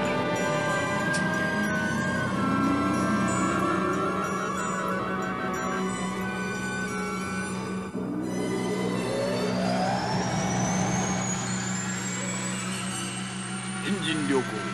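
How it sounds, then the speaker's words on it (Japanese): The spaceship engine of the anime Space Battleship Yamato starts up with a layered electronic hum and low drone. Partway through, a rising whine sweeps steadily upward and the engine sustains a loud, continuous roar. "エンジン良好。"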